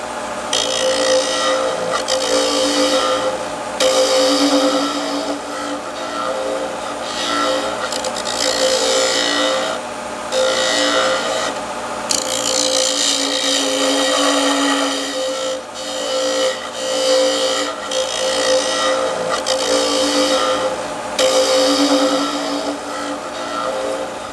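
A wood lathe spins steadily while a tool cleans up the tip of a small turned box, giving a continuous whirring hum with recurring scraping surges as the cutter meets the wood.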